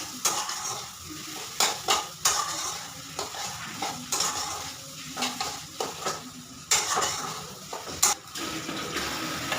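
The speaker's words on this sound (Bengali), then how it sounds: "ডিমটা দিয়ে ভালো করে নাড়াচাড়া করে নিতে হবে" Egg being stirred in a frying pan, with repeated scraping strokes of a spatula against the pan over a steady background sizzle, close and fairly quiet, no voices.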